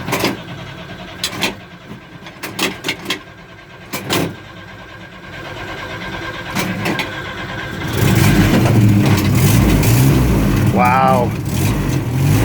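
A 1952 Ford M38 military jeep, long unused, cranks a few times with bursts and pauses, then catches and settles into a loud, steady, rough idle that runs to the end; one person exclaims briefly as it fires.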